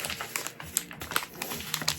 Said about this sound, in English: So let me cut this bag open.